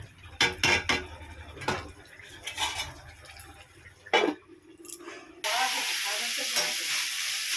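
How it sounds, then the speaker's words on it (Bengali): Spice paste being stir-fried in oil for a Bengali fish curry, with spatula scrapes and pan knocks in bursts, then a loud, steady, close sizzle for the last couple of seconds. "মশলাটা যতক্ষণ কষে তেল বেরিয়ে আসবে তখন জল ঢেলে দেব আর কষবে"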